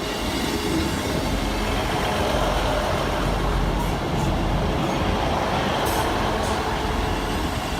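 An East Midlands Trains class 158 diesel unit, 158785, rumbles past at Newark Castle level crossing, a loud continuous roar with wheel noise and faint squeals throughout.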